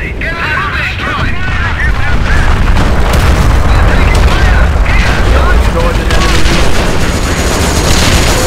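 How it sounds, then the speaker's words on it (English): Butterfly bombs exploding in the Company of Heroes Europe at War mod, loud heavy booms and rattling bursts layered over continuous battlefield gunfire, with a voice speaking over the chaos. "Butterfly bombs falling overhead."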